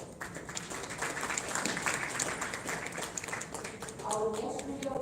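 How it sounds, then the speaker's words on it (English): An audience at a film festival award ceremony applauds steadily in a dense, continuous patter. An amplified voice speaks over the clapping. "Please give him a big round of applause."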